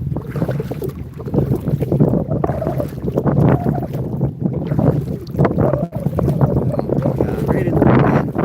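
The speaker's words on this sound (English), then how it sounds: "Right in the wind." Strong wind blows across a river during kayak fishing, buffeting the microphone in a loud, continuous, gusty rumble that rises and falls for the whole stretch.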